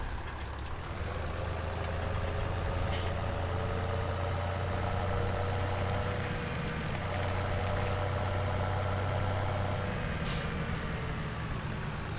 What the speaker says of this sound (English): Just leave this tractor here.